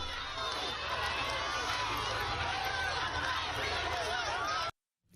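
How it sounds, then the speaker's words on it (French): Dense crowd noise from a joyful throng greeting Malian President Goïta outside an inauguration ceremony, a steady roar of chatter and cheering that runs loud and continuous before cutting off abruptly near the end. "À la sortie, une foule nostalgique l'attend."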